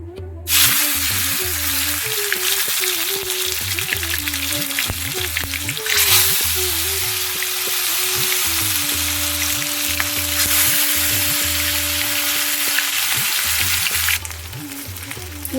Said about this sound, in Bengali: এইবার একে একে কুমড়ো ফুলগুলো দিয়ে ভেজে নেব